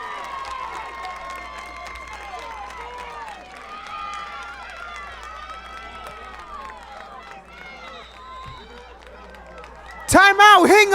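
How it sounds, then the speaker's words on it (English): A high school soccer crowd at a playoff match erupts in a loud burst of cheering and roaring near the end, after a busy stretch of general stadium murmur with voices talking over it. "And let's hear the crowd roar there."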